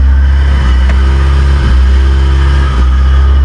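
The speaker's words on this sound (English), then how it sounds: "so it's revving up and down, it's hunting" A loud Honda Civic EF engine runs at idle with an engine warning light on, its revs rising and falling unevenly in a hunting pattern, with a steady low exhaust rumble.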